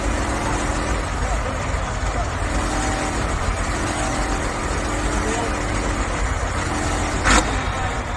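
A diesel tractor engine idles and rumbles at an outdoor tractor pulling rally, a continuous low drone mixed with crowd noise and a voice talking over it, with a sharp brief bang near the end.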